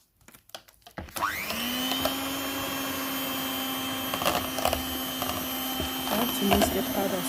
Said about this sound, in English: So now it's time to mix with our mixer.